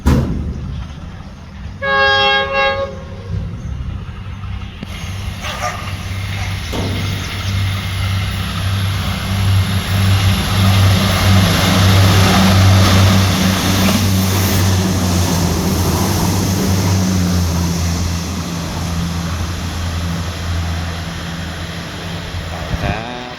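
Train 75, running 21 minutes late, rolls past Ban Haet station with a horn blast near the start and then a long, loud, rumbling pass that fades slowly.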